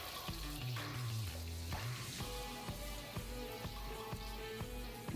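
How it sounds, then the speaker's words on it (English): Butter melting over fairly high heat in a pot for mac and cheese, a faint sizzle under a clatter of rhythmic utensil taps and knocks against the pan. "our butter is melted fully"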